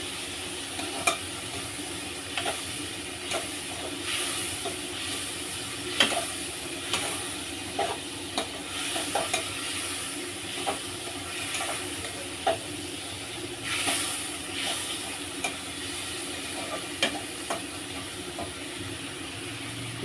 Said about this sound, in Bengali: দেখো আমার এখন চিংড়ি মাছ ভাজা চলছে।